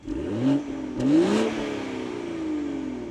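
A 2024 Toyota GR Supra standing still revs its engine in two quick rising blips close to the microphone, then settles back to a steady idle hum.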